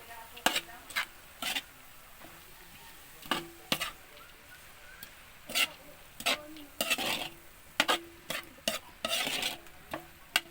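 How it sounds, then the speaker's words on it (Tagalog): A home stir-fry with oyster sauce and a little soy sauce is stirred in a pan. Sharp, irregular scrapes and clinks of the utensil fall over a soft, steady sizzle, close up with no talking. "oyster sauce sa ito pakunting toyo. Yan. Haluin na po natin."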